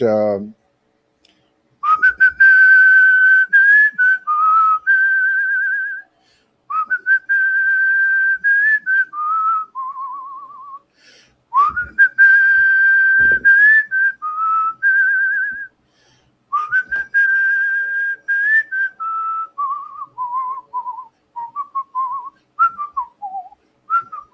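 A person whistles a melody up close, loud and clear, in several long phrases separated by short pauses, with the tune wandering up and down.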